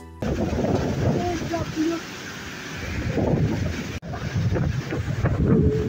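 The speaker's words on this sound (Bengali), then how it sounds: "বাতাস" Cyclone Remal's wind gusts buffet the microphone with a low, rumbling roar while people talk underneath.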